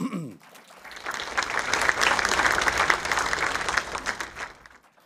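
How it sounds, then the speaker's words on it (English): Audience applause at an Indigenous speaker event, a dense steady wash of clapping that swells after a brief voice at the start and holds loud before tapering slightly. "Let's give them another round of applause."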